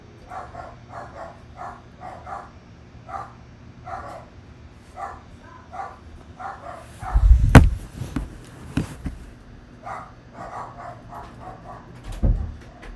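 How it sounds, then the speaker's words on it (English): Several dogs bark in bursts indoors at moderate distance, with a few thumps and bumps partway through and a short pause before the barking picks up again. "My dogs are going a little crazy."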